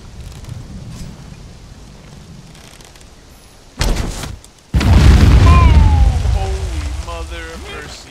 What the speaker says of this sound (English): Explosions! It's open.